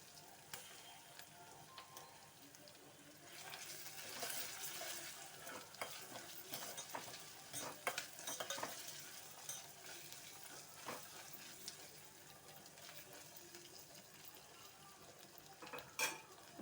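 Onion fries in a pan with ginger garlic paste and is stirred now and then. The sizzle is soft and steady, with faint scrapes and taps of a spoon against the pan, and no one speaks.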